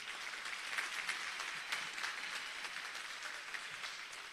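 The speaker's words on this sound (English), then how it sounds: "Please give him another round of applause." A rally crowd gives a round of applause, a fairly soft and steady spread of many hands clapping with a few sharper individual claps poking out, continuing evenly without speech.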